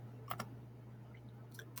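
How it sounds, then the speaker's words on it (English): A few quick plastic button taps on a handheld calculator, two close together near the start and a couple more toward the end, faint against a steady low electrical hum. "So if I wanted to go to my calculator and type in"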